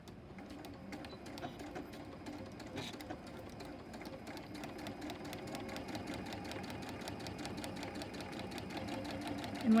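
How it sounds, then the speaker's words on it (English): A domestic sewing machine runs steadily while back stitching a quilt block seam, a fast even mechanical whir and ticking that holds for the whole stretch at moderate, close volume. "so we'll back stitch."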